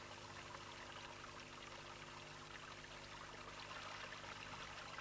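Water flowing steadily in a brook where a homemade water wheel built from boards and an old tricycle wheel sits, a soft continuous trickle and pour, fairly faint and alone.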